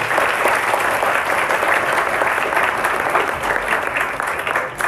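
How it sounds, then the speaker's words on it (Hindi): Children applaud together in a room, steady dense clapping sustained throughout at moderate loudness with no pauses, a faint murmur of voices under it. "एक बार अपने लिए तालियां बजाओ सभी बच्चे।"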